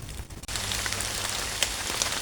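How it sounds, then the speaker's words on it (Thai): Steady rain falling on surfaces outdoors during a mushroom-foraging trip, a dense continuous patter with a few sharper drops landing close by, heard alone without talk. "ฝนก็ลงเม็ดแล้วครับ"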